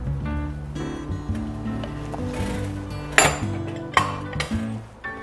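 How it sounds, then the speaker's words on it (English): Spoon clinks and scrapes against a pot of chili with tomato puree as it is stirred, several sharp metallic knocks standing out over a steady background hum. "I'm gonna give this a quick stir again"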